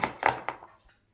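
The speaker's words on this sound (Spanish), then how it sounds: "Ahora la cortamos en pequeños trozos." A few quick knife chops cutting a carrot into small pieces on a cutting board, crisp thunks in a short burst that fade out, close and clear.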